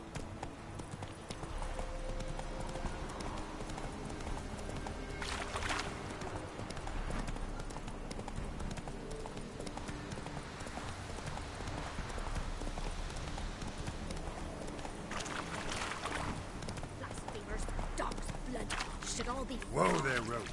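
Roach the horse's hooves clip-clop steadily through The Witcher 3, a near, regular trotting rhythm that carries on throughout alongside game music and ambience, with a voice speaking over it.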